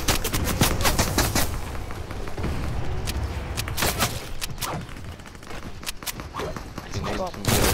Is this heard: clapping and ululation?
no